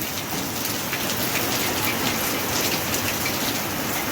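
Heavy rain pours down in a dense, steady hiss, drops drumming on surfaces without a break, close and loud.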